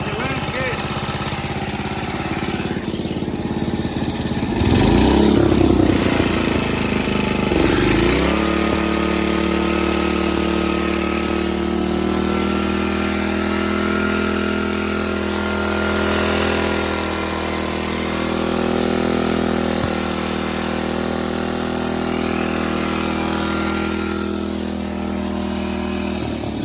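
A 1968 Snapper Comet riding lawn mower engine runs close by, sputtering roughly at first, then settling into a steady idle that drones on, with occasional speech over it.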